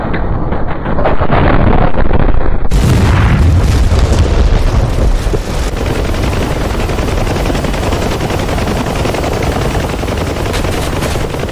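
A bomb drops and bursts in an A-10 Warthog combat game set at the Battle of Dien Bien Phu, Vietnam, as a loud rumbling blast that swells, then gives way to a long roaring rumble with crackling gunfire, no voices.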